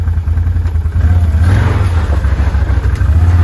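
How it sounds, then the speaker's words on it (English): A vehicle engine drones steadily and loudly while driving out across a camp property, with a strong low hum and slight rise in revs, no talk over it. "Let's see if I can drive out to it right now."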